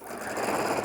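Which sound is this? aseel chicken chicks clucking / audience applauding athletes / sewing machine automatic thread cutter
sewing machine automatic thread cutter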